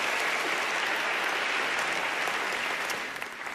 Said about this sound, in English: I get a round of applause for that